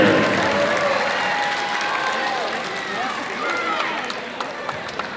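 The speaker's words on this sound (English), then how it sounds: "let's give them one more big round of applause" A crowd in a gym applauds at a girls' 3A high school basketball game between Monument Valley and Alchesay. The clapping and cheering form a dense, steady wash that fades slightly toward the end.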